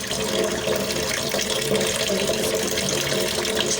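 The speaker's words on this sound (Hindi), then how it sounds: "इसे अच्छे तरीके से धोना है, साफ़ करना है ये सब चीज़ों को इस तरीके से हाथ से।" Chicken pieces scrubbed by hand under a running kitchen tap, with a steady, close hiss of flowing water splashing into a sink and continuous over the whole stretch.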